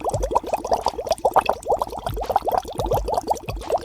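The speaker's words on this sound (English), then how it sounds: "You can see the water is boiling slowly and coming to a boil." Water in a pot heating for vegan vermicelli soup with vegetables, bubbling and gurgling steadily as it comes to a slow boil, close up and moderately loud with no talking.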